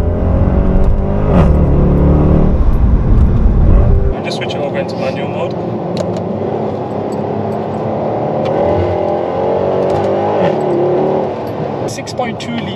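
A Mercedes C63 AMG with a 6.2-litre V8 accelerates on a city street while struggling for traction. A deep, loud engine roar dominates the first few seconds, then eases into a lighter, steady drone.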